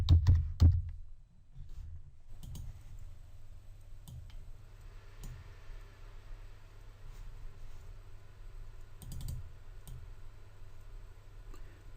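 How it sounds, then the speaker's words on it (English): Typing on a computer keyboard: a few loud clicks at the start, then sparse, soft, irregular keystrokes over a quiet low hum, with no one talking. "I don't put a lot of effort into making sure that I get everything typed in perfect."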